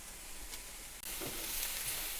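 Green pepper and onion frying in a pan give a steady, close sizzle with a light stir or scrape near the middle, and no one speaks.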